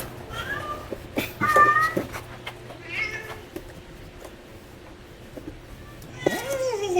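Pet cat Mocha, an older cat of ten or more years, meows several times from inside a cardboard box, with close, clear cries that repeat with short gaps and a longer drawn-out meow at the end.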